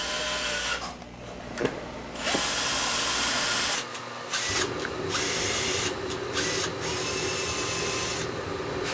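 A power drill whirs steadily as it bores through a phone book, with brief pauses and changes in pitch as the bit works through.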